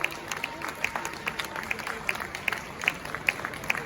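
Audience applause at the 29th GJA Media Awards ceremony, a dense steady wash of clapping with sharper individual claps standing out at a regular rhythm throughout.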